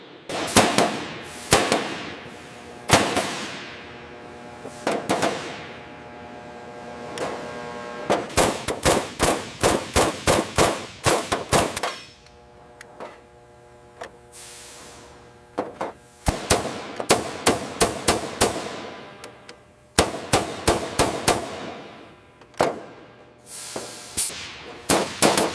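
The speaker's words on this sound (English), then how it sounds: "The meticulous process of riveting is essential to restoring the Mustang's structural integrity" Rivets being hammered into a new fuselage patch on a P-51 Mustang under restoration: bursts of rapid, loud metallic pneumatic hammering in clusters, separated by short pauses and quieter ringing.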